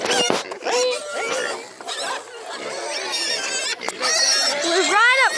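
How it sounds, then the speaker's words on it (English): Pigs grunting and squealing up close on a farm, with repeated rising squeals and snorts scattered through, while people talk over the animals. "we're right up close to the pigs now"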